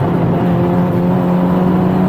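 Polo Cup race cars on a circuit's main straight, a loud continuous engine drone with a steady pitch as the pack runs past.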